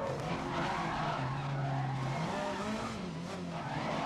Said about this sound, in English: The noises coming from this car are absolutely fantastic.